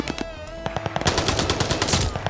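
An MP40 submachine gun fires in Call of Duty: Vanguard in a loud, rapid burst of automatic shots that runs unbroken and up close.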